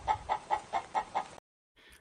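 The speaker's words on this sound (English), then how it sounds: "who got the chicken cluck on the show" A chicken sound effect clucks six times in a quick, steady rhythm, loud and close, before a brief silence and a faint tail.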